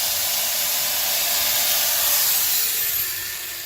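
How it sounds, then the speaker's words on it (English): Grinder cutting metal inside a truck's rear wheel well during fender and bedside installation, a loud, continuous high-pitched hiss and scrape that holds steady and eases slightly toward the end, close up with no talk. "the only thing that I have to grind now is on the inside here"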